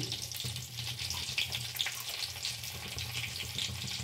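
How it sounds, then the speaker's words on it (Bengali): Green chili and asafoetida sizzle in melted ghee in a pan, a continuous close crackling fry with scattered sharp pops over a low hum. "এবারে আমি একটা কাঁচা লঙ্কা দিয়ে দিচ্ছি, আর দিচ্ছি হিং।"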